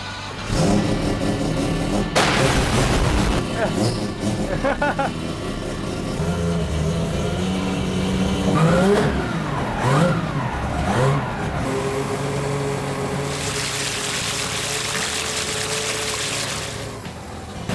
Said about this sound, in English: We're going to fire the car up, take it outside, see if it's going to fill up the smoke otherwise.